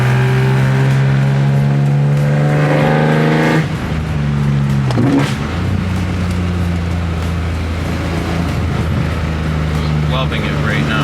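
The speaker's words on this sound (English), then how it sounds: "this video might literally just be like 10 minutes of me driving around" S54-swapped BMW E30 on a fall drive along a back road. The inline-six revs loudly up close, its note climbing, then dropping sharply at a shift before pulling again under steady throttle.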